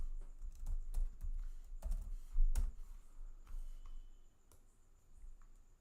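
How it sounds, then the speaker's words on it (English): Several quick, scattered clicks from a computer keyboard while network hosts are typed in; the keystrokes are faint and uneven, cluster in the first three seconds and then thin out over low background noise. "Type the networks you want to scan"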